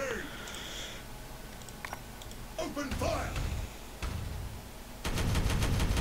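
Gunfire in the video game Warhammer 40,000: Regicide, with scattered sharp shots early, a couple of heavier blasts midway and a dense rapid burst of fire at the end.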